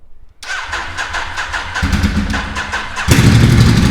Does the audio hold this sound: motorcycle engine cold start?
yes